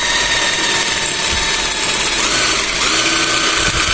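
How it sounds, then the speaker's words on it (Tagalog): An impact wrench fitted with a drill adaptor bores into stone, making a loud, continuous high-pitched motor whine with gritty grinding that holds steady and close for the whole stretch. "Dahil sa sobrang lakas po ng makina ng ating impact wrench, sigurado po butas ang bato."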